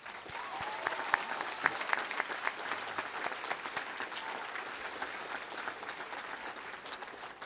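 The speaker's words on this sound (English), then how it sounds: "give our Teachers of the Year in Maryland another round of applause" An audience at a Maryland Teacher of the Year award ceremony claps steadily, a dense, sustained wash of applause from a sizable crowd with no speech over it.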